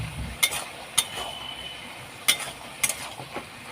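A winter mixed-vegetable labra being stirred in a pan to work in spices, with a few sharp metallic clinks of the spatula spaced apart over a quiet background.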